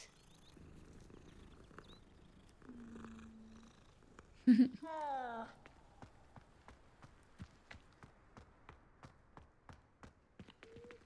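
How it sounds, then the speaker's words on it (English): A Siamese cat in the Hogwarts Legacy video game purrs softly alongside quiet game ambience and a steady rhythm of light tapping footsteps. A brief, louder chime-like sound rises briefly midway. "Oh, another cute cat. That's like a Siamese one."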